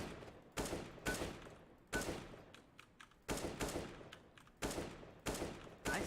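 Bursts of rapid gunfire from a video game shooter, several volleys of fusillade-like shots spaced about a second apart, loud and close with short pauses between.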